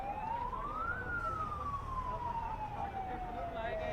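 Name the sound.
fire engine sirens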